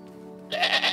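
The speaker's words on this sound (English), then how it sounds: "You're going to be a very good goat, General Heidi." A cartoon goat gives a single loud, wavering bleat that breaks in after a short quiet hum of background tone, with no voices over it.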